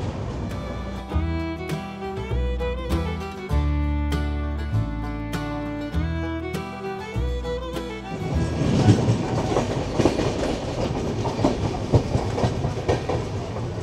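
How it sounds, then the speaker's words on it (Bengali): The 13054 Kulik Express rolls through Khana Junction without stopping. Music plays over the first half, then rumbling wheels and rail clatter take over, steady and close. "ট্রেন খানা জংশন ঢুকছে, কিন্তু এখানে কোনো স্টপেজ নেই।"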